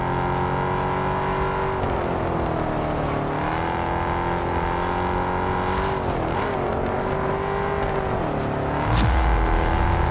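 Ford Mustang engine droning steadily in the racing game Test Drive Unlimited, a loud continuous tone that dips and rises with gear changes and throttle, alone with no talk.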